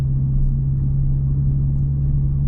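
The 3.0 engine of an Audi S5 idles with a steady low hum and rumble while its rocker arms tick faintly, recorded close under the hood with no one talking.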